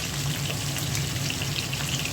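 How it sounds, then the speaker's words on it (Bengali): Ground coriander, turmeric, dried chili and cumin powders with salt fry in oil, making a dense, even crackling sizzle that stays close and loud for the whole short stretch. "মশলাটা তেলের সাথে একটু"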